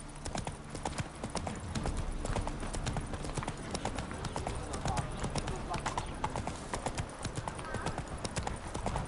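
Roach, a horse in The Witcher 3, clip-clops in a steady continuous rhythm of hoofbeats throughout, with game music and occasional speech beneath.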